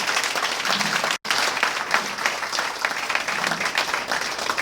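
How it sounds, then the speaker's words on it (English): Audience at a Lagos State workforce development graduation ceremony breaks into sustained, dense applause that fills the room, briefly cut by a short gap before continuing steadily. "Let us appreciate Lagos State Government with a round of applause"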